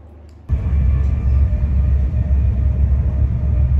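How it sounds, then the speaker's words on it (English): A passenger train pulling away from Stowmarket Station, heard from onboard: after a quiet half second, a loud, deep, steady rumble starts suddenly and continues throughout with rattling texture. "we're about to board the train to be on the way back home to Witham shortly"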